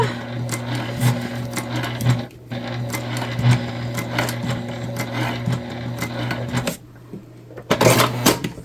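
A sewing machine top stitches a tote bag with a steady humming motor and a regular ticking of the needle, running for several seconds, briefly pausing, then continuing before stopping near the end.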